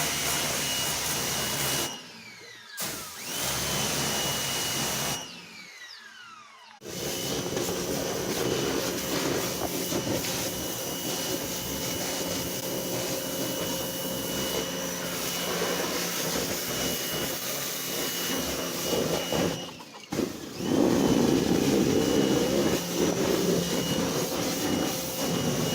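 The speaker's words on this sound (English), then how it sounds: "She's using the pressure hose." A pressure washer hose sprays a chicken coop clean in a steady, loud hiss and roar that runs almost throughout, broken by a few short pauses.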